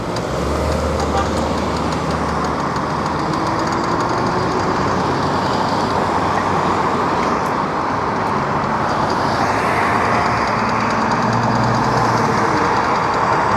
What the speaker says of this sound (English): There's a lot of traffic that I'm going to have to.